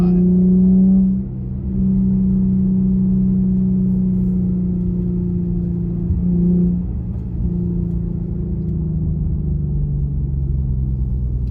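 An Infiniti Q50 holds about 3,000 RPM in third gear, a loud steady engine hum with a strong low drone that dips briefly twice, as if easing off and coming back on the throttle, heard from inside the car.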